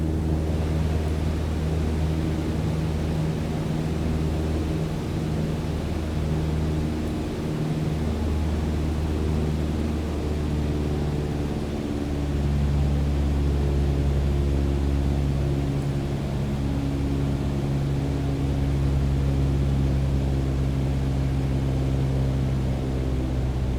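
A Cessna 152 engine in Microsoft Flight Simulator drones steadily throughout, a moderate, even propeller hum with layered harmonics and no talk over it.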